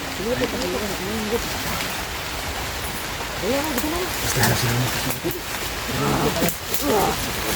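Steady rain falls in a constant hissing wash, with voices talking over it throughout.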